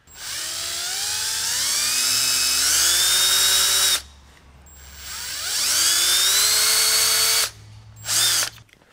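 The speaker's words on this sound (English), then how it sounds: "Let me grab a drill and we'll start drilling." A power drill whines loudly in two long bursts, pitch rising as it bites into a broken thermostat bolt on a Toyota 22RE engine, with a short pause between and a brief final spin.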